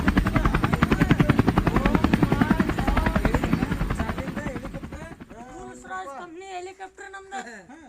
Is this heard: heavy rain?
no